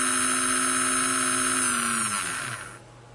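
An N gauge Grafar Class 94XX model locomotive motor whirs at a high, steady whine while lying loose on a workbench, rattling slightly, then winds down and fades out near the end.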